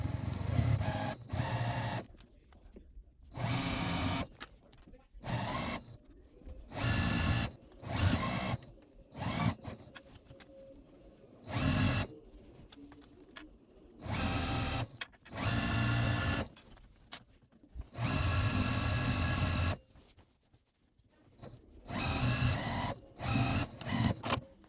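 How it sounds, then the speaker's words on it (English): A sewing machine stitches a fabric lining into a square crochet bag, running in repeated close, steady bursts of rapid needle chatter separated by short pauses. "we're just going to sew all the way around this bag"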